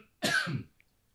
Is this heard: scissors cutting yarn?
no